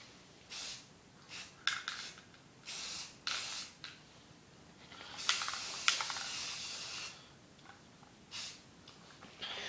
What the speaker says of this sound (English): Just drown that in freaking spray paint.